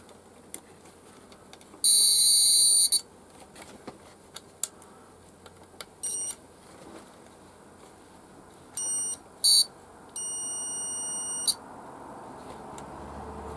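Einos burglar alarm box kit sounding in short electronic beeps, some bursts brief and others held for a second or more, with irregular gaps and faint clicks and handling noise between them.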